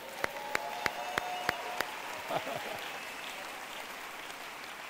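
Hands clap in church in a row of six crisp, evenly spaced beats, with faint crowd murmur and light clapping underneath and no clear cheering.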